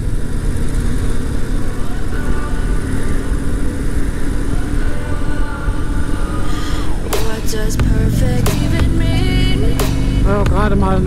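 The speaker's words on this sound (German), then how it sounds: "gerade mal einen Auspuff halb aufgemacht" A motorcycle engine with its exhaust opened halfway runs at a steady idle, then blips its throttle in several sharp revs toward the end, loud and close.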